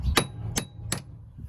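Three sharp metallic hammer blows, evenly spaced and close, knock a bolt out of a Toyota Avensis T270 2.0 D4D front wheel bearing, each strike ringing briefly.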